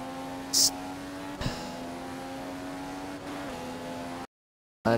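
A Ferrari race car at Monza, heard as a steady high-pitched engine whine that drops slightly as it slows into the pit lane, with brief bursts of noise and a short dropout near the end.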